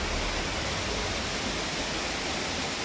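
Heavy rain pours in a dense, steady, even hiss that stays at a constant loudness throughout, with no voices.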